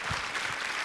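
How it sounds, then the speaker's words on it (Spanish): A conference audience in Saltillo bursts into a short round of applause for a woman writing a book, a dense crowd clapping that stays steady and fairly loud throughout. "un aplauso"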